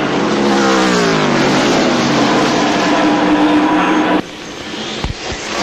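Stock cars at the 1991 Miller Genuine Draft 500 roar past in a loud, sustained engine drone that holds for about four seconds, then drops away, leaving quieter distant engine noise and a couple of sharp thumps.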